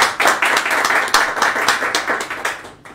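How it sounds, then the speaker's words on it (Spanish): Audience clapping and applause at a live event in a Spanish-speaking city, a dense burst of many hands with a cheer near the start, steady and loud before tapering off at the end. "un aplauso por favor al movimiento Dosha"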